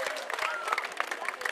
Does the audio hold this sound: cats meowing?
no